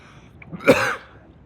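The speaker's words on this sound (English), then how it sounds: "I know it's very bad that it made me sneeze" A single short, sharp sneeze-like burst, close and fairly loud, in an otherwise quiet setting.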